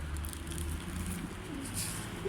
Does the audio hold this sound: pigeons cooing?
yes